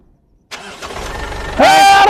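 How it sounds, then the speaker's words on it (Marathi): A car engine cranks and catches, then settles into a loud, steady rumble close at hand, with a brief rise in pitch as it fires. "नाही गाडी चालू झाली हो"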